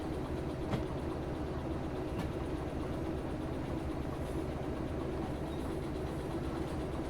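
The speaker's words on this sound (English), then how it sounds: "And you can hear this single locomotive is struggling." In the Derail Valley train game, a lone DM3 locomotive labours under a heavy load, giving a steady, loud low rumble and drone that holds throughout with no talking.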